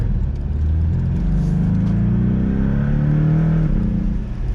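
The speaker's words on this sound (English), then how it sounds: "Well, you get a bit of an exhaust note there." Loud, close exhaust note of a Porsche 718 Boxster, a deep rumbling drone that rises steadily in pitch as the engine revs up, then eases off.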